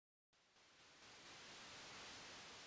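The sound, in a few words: white noise in the video game Deltarune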